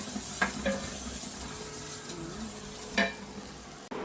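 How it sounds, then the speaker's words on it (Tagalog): Fish frying in a home kitchen pan gives a steady sizzle with a few brief utensil clinks against the pan. Nobody speaks. "At isa-sarsyado na natin itong isda."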